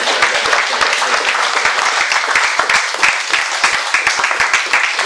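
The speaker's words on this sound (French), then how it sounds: "Tu peux quand même acclamer le Seigneur pour ça." Loud, dense applause from a church congregation during a worship service, steady sharp clapping filling the room throughout, with little voice beneath it.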